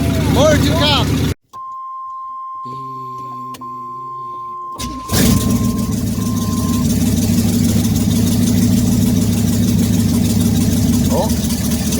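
A Camaro engine idles after warming up, a steady loud rumble that runs continuously for most of the clip after a brief pause and a few mechanical clicks, with some voice-like tones early on.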